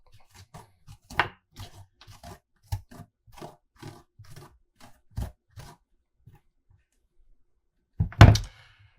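A spoon scrapes and scoops the seeds out of a halved butternut squash, making a run of short, dry knocks and scrapes, then one louder, longer scraping burst near the end. No one speaks.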